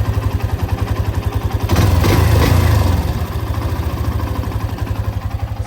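A Hero Xtreme 125R motorcycle idles with tappet noise, giving a close, even low thrum of rapid pulses that swells briefly in a short rev before easing back to a steady tick-over.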